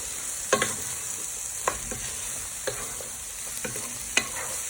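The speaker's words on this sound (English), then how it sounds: "you add in your peppers, and you want to give them a good toss with your onions and garlic for a few minutes" Peppers, onions and garlic sizzle steadily in a pan for a sausage casserole while a spoon tosses them in separate scraping strokes, roughly one each second, sitting above the frying hiss. No talking is heard.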